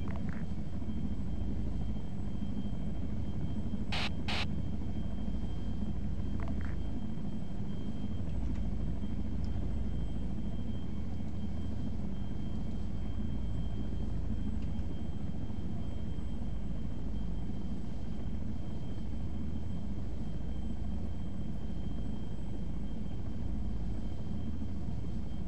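A fixed-wing aircraft in ARMA 3 lifts off, its steady engine drone filling the whole stretch at constant loudness, with a couple of brief sharp clicks early on.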